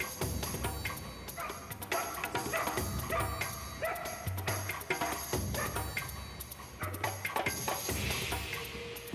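Saluki hounds in hunting training sound off with repeated yips and barks, some near and loud, scattered over a continuous busy background with occasional clicks and movement.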